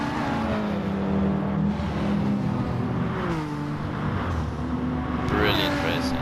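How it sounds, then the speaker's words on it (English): Two Aston Martin race cars sweep through a corner in a race replay, their engines droning and shifting pitch steadily throughout, with commentary talk running over the top. "Beautiful how the cars come around the corner there, two Astons."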